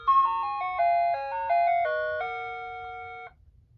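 Security siren alarm giving off a melodic electronic chime like an ice cream truck, a sequence of stepped tones about three seconds long, loud and clear, then fading to quiet.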